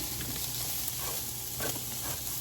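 Onions and squash sautéing in a pan with ground beef for a Tex-Mex dinner, a steady close sizzle with faint stirring scrapes and no talk.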